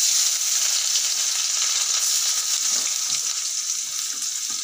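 Onions sizzle steadily in hot oil alongside cumin and bay leaf tempering, a dense, continuous frying hiss close by with faint stirring scrapes and no talking.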